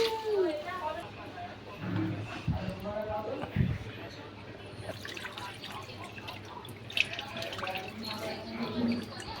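Water pours and splashes into a bucket at close range, a steady running sound heard beneath several people talking throughout.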